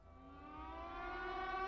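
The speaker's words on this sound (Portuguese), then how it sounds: "essa sirene do tsunami" A tsunami warning siren in Grand Theft Auto V wails steadily, its tone slowly rising and swelling louder over a low rumble.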